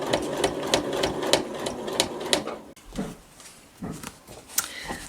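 A sewing machine stitches down a quilt's binding with a quick, steady run of stitches that stops halfway, leaving only a few soft handling taps and rustles.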